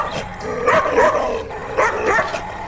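A cursed dog in a horror story barks and yips in two short bursts, close and fairly loud, with whimpering tones between them.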